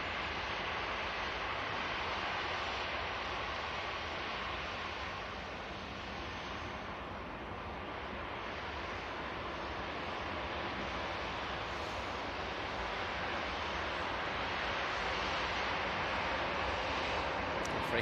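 Aer Lingus airliner passing at Manchester Airport, a steady broad engine roar held at moderate distance for the whole stretch, fairly even with slight swelling near the end.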